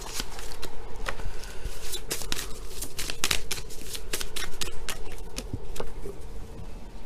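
Tarot cards being shuffled by hand, a steady run of crisp riffling snaps and papery flutters, close and fairly loud, with no speech over it.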